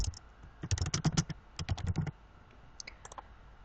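Computer keyboard typing in quick bursts of close, crisp key clicks, two dense runs followed by a few scattered taps, with no voices.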